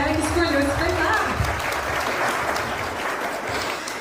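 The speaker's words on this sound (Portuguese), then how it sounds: "vamos trazer uma salva de palmas para essa galera que escolheu esse espetáculo" Steady applause from the audience at a pre-ceremony talk, a dense wash of hands clapping throughout at even loudness with a few voices mixed in.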